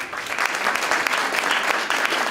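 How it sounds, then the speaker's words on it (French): An audience applauds steadily, a dense wash of clapping hands with no voices standing out. "que je vous demande d'applaudir bien fort"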